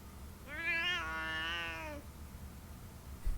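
A cat in the video game Lost Judgment gives one drawn-out, tonal meow of about a second and a half, close and clear over a low background hum, followed by quiet.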